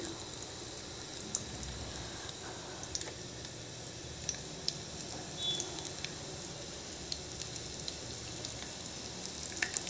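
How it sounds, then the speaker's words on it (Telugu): Dried red chillies and garlic frying in tempering oil, a faint, steady crackle and hiss with scattered tiny pops and ticks, quiet and close with no voices. "ఎండుమిర్చి, వెల్లుల్లి వేగాలండి."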